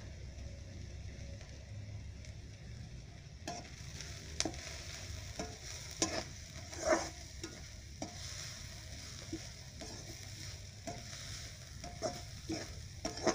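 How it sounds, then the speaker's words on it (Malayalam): Masala with turmeric is stirred in a pan for beef roast, with soft, fairly quiet sizzling broken by irregular spatula scrapes and taps against the pan. "അപ്പോൾ ഒന്ന് നല്ലപോലെ ഒന്ന് വഴറ്റി വരുന്നുണ്ട്."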